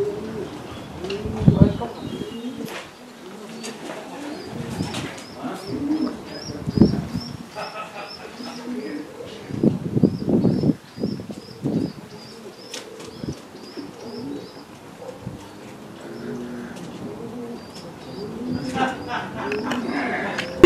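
Blue racing pigeon cock cooing in soft repeated throaty bursts, with wing flaps and other bird calls nearby while someone talks over them.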